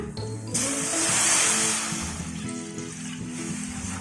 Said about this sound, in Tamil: கடாயில் ஒரு சொம்பு தண்ணி ஊற்றிக்கலாம்